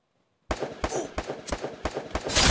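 Gunfire in a Free Fire clash squad match: a rapid string of about seven sharp, loud shots at an even rhythm, ending in a louder burst, starting after a brief silence.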